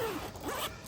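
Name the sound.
unzipping zipper on Hisun UTV soft enclosure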